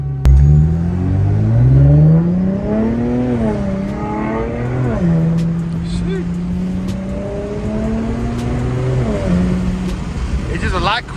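Infiniti Q50/Q60 fitted with AMS lower downpipes, a deep exhaust growl rising and falling through revs as the car accelerates, loud and close, with people talking over it.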